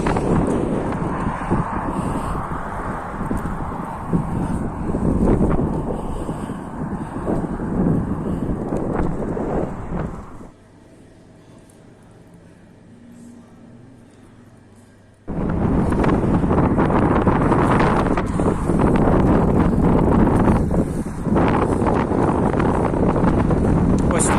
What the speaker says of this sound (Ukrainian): Коротше, трохи вітряно, пацани, а так, все нормально.